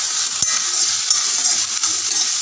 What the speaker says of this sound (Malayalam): ഫ്രൈ ചെയ്ത് എടുക്കാം ഇത് പെട്ടെന്നൊന്ന് ഫ്രൈ അല്ല ഒന്ന് ചെറുതായിട്ട് ഷാലോ ഫ്രൈ ആണ്